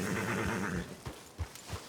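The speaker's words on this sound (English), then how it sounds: "Is that a horse?" A horse in the Red Dead Redemption 2 video game snorts and whinnies near the start, followed by a few soft hoof thuds and rustles, with no talk over it.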